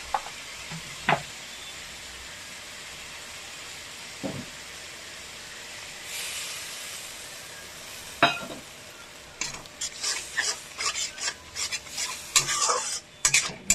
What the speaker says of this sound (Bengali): আস্তে আস্তে ফুটুক, তেল ছেড়ে আসুক